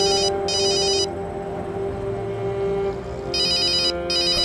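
A telephone rings indoors in two loud electronic bursts, one at the start and one at the end, with a steady low hum and no talking in the quiet gap between them.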